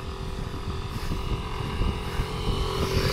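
A motorcycle engine labors up a steep winding mountain road, a steady mid-distance drone with slight surging in pitch and a faint wind background, no voices.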